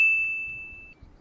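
A single bright notification bell ding rings out clearly and decays over about a second, with faint low background noise after it.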